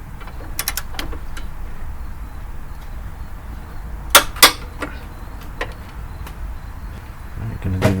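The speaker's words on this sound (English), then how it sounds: "use your torque wrench and set this to 45 foot-pounds" A torque wrench tightening engine mount bolts on a Subaru BRZ, with a few sharp metallic clicks and ratcheting ticks, including two louder snaps, set against a low garage background hum.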